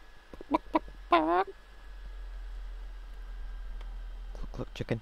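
In the game IslandClash, a chicken gives a few short clucks and a brief rising squawk, mixed with a voice that may be imitating the clucking, over a steady low hum.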